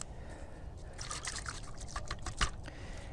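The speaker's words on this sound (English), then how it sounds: "I'm going to mix some soapy water here" Water pouring and trickling into a container to mix soapy water for cleaning tools, a steady close liquid stream with small splashes and one brief clunk near the end.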